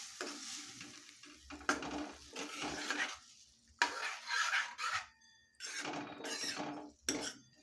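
A spoon stirs cooked dal mixed with bottle gourd curry in a pot, giving bursts of scraping and wet mixing that come and go with short pauses between strokes, close by and fairly quiet, with no talking.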